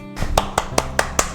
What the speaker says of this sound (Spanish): Nosotros aplaudimos de felicidad